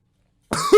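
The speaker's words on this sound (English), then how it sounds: "then I cough it up, and it goes up my nose" A person coughs after water went down the wrong pipe, a short burst of close, loud coughing that starts abruptly after half a second of silence and ends in a rougher, throat-clearing push.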